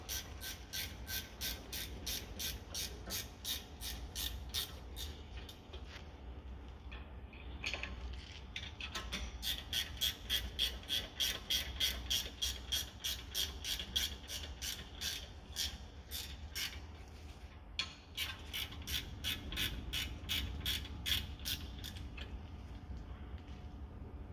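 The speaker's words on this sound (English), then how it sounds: "18 to hold it on the inside and the 13 to tighten up the bolt" Repeated ratchet clicking while a brake caliper bolt is tightened on a VW Golf GTI Mk7 during a front brake disc and pad change, steady bursts of close, crisp pawl ticks with brief pauses between strokes, no talking.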